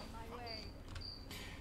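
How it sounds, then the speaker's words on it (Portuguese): Cricket chirping in short high-pitched trills, faint and thin against a low background hum, during a Smite gameplay stream. "O grilo tá se comunicando com outros grilos do país inteiro, cara."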